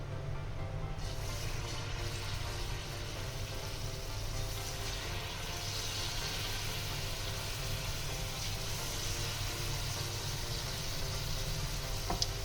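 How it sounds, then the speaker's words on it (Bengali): Palm fritters (taaler bora) fry in hot oil with a constant, even crackling sizzle and a low steady rumble underneath, unbroken across the whole stretch. "তেল আমার গরম হয়ে গেছে এবার আমি বড়াগুলোকে ভেজে নেব"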